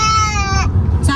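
A voice imitates a cow's moo at a zoo, a single drawn-out harmonic call lasting about half a second, near and fairly loud, with a brief second vocal burst after a pause.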